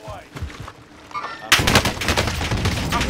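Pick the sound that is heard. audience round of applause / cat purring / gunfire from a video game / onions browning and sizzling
gunfire from a video game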